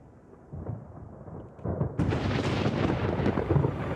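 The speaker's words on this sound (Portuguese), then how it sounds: "ocorre uma tempestade forte no cânion" A strong thunderstorm rumbles in a desert canyon, with a low roll of thunder swelling into a loud, sustained roar that fills the space and stays heavy to the end.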